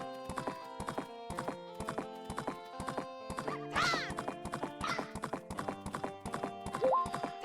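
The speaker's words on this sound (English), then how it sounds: "It's nice having a pony, though." Steady rhythmic hoofbeat clip-clop from a galloping pony in the video game Majora's Mask, with a horse whinny partway through, game music underneath, and no talking.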